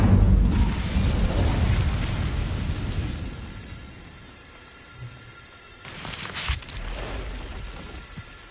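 An Incendio fire spell in Hogwarts Legacy goes off as a broad, crackling whoosh of flame, loud at first and then fading, with a second fiery burst flaring up toward the end.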